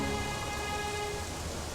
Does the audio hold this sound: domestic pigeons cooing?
no